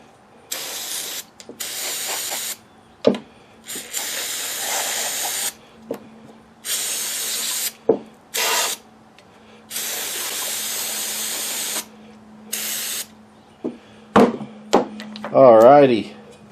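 Brake cleaner is sprayed onto the variable cam timing solenoids of a Ti engine in a series of sharp aerosol hisses of varying length, broken by brief clicks and knocks, with someone talking near the end.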